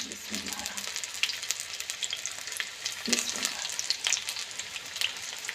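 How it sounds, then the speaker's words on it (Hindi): Battered chicken tempura fries in oil over a medium-low flame, giving a soft, continuous bubbling sizzle with fine crackles throughout, fairly quiet and close, with no one talking. "मीडियम से लो फ्लेम पे आपने इसको फ्राई करना है।"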